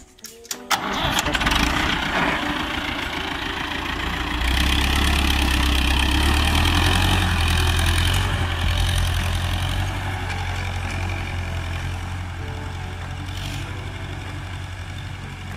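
A modified four-cylinder tractor, upgraded to about 63 horsepower, cranks and catches with a rough clatter, then settles into a steady, deep idle that runs close and loud for a dozen seconds with no talk over it.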